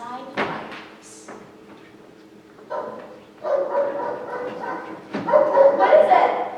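A dog barks and yips at night inside a house, a few sharp, fairly close barks and whimpers spread across the moment, with a door sound and people talking around them.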